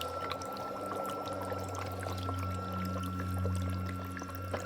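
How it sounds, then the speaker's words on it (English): Feet are lowered into the water of a Homedics Bubble Spa Elite footbath, producing sloshing and pouring splashes over a steady bubbling hum of the running spa, close and moderately loud. "Just go ahead and place my feet in here."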